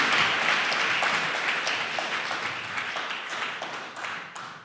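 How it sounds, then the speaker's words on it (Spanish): Audience applause at a tribute event honoring a life and work, a dense, steady crowd clapping that starts loud and gradually tapers over several seconds, with no talk over it. "Un aplauso,"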